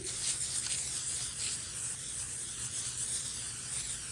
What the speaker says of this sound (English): This sheet is going to be sprayed too.